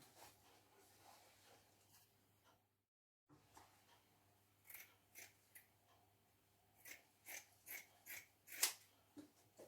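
Scissors cut fabric for a formal cocktail jacket, giving quiet, uneven snips that turn into a quicker run of crisp cuts near the end, with no voices.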